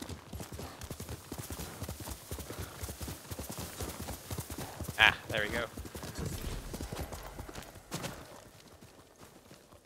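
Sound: horse hooves clip-clopping in Ghost of Tsushima video game

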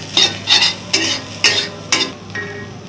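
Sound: frying boiled pumpkin leaves with ginger and garlic

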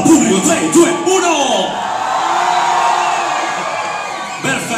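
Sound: live audience shouting and cheering at red carpet event

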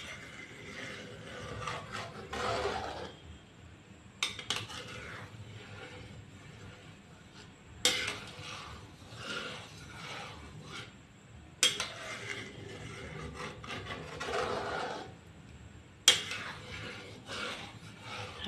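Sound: stirring boiling biko (sticky rice dessert) mixture in a pot

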